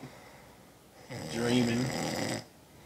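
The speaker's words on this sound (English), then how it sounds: "You snore harder than a bitch." A man snores heavily in his sleep on someone else's couch, one long rasping snore that swells and fades, loud and close with no talk over it.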